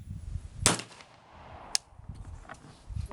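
A sharp report from a 300 Blackout rifle firing cast bullets of about 225 grains with a modified Lee 309230 mould, then a second fainter crack about a second later, outdoors at close range.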